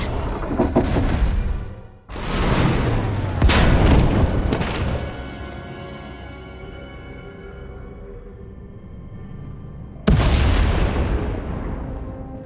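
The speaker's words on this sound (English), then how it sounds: "We heard explosions." Several heavy, booming explosions in Star Wars: The Old Republic go off in quick succession, each followed by a long rumbling decay, then another loud blast near the end.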